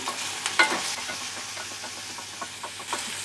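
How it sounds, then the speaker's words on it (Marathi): Finely chopped chilies, onion and asafoetida sauté and are stirred in a hot pan. A steady close sizzle and hiss runs throughout, with occasional soft scrapes and clinks from the spoon. "आणि थोडीशी मिरची घालूया बारीक चिरलेली, हिंग। आता परतून घेऊया।"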